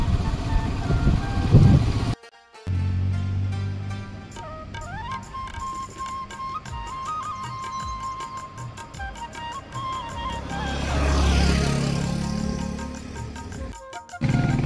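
A car driving along a roadside near Jeolikote in the Nainital hills, its engine running steadily as it slows and pulls over to park. Background music plays over it throughout, and the engine rumble rises briefly near the end.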